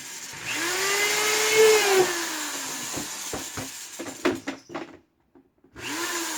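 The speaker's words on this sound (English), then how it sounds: "I have like 3 holes left to drill here" A power drill whines as it bores drainage holes through a bucket, its pitch rising and falling, followed by a few knocks and clatters and another drill start.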